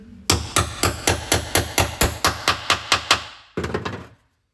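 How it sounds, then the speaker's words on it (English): A socket is hammered onto a painted-over bolt during rear subframe removal on a classic Mini: about twelve sharp, evenly spaced metallic knocks, close and loud, then a brief pause and a final burst of quick rattling taps. "I'm just tapping the socket on there"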